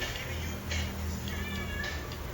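A cat meows a few times in quick succession, clear and fairly close, over a steady low background hum with no talking.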